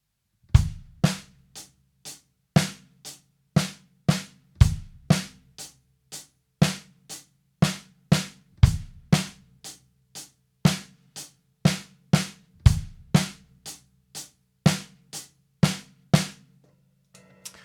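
A paradiddle groove played on a drum kit with the bass drum on the first stroke of the paradiddle, a steady stream of crisp strokes and low thumps, close and alone.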